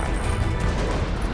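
Gunfire in the video game Indigo Prophecy comes as a loud, dense burst of shots and crashing impacts. It runs nonstop through the short moment with no voices.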